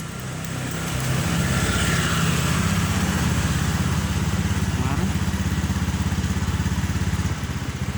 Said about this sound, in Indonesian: Jadi kalau misalkan saya nyalakan mesinnya